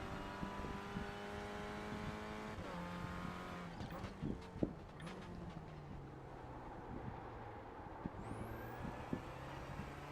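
A Renault Clio race car in a Clio Club Series race runs on track after wheel hop over a curb, its engine note rising and shifting faintly and at a distance, with wind noise and no talking.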